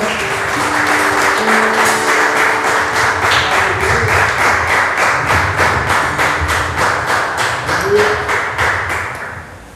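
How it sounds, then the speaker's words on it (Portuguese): A church congregation at a Sunday-afternoon service claps loudly and steadily, with a regular rhythmic beat throughout, and a sustained tone runs beneath it. "Você pode aplaudir Jesus bem forte."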